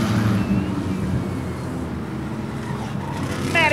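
Race cars taking the green flag in a powderpuff feature at Rockford Speedway, a blended engine roar heard from a distance with wind buffeting the microphone and a brief higher whine near the end.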